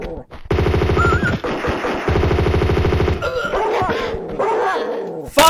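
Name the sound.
dog barking in the video game Tomb Raider 2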